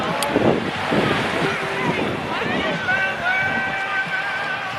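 Ocean surf and gusty wind on a beach during a cruise excursion, a continuous wash of waves and microphone buffeting with a brief whistle-like tone, while people talk nearby.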